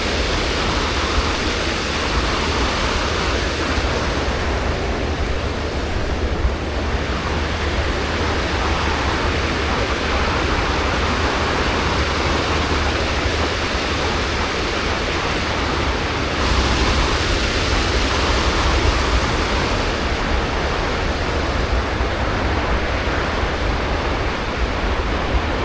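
The Logawa river rushes along in a steady, dense, unbroken roar, loud and close, with no voices over it.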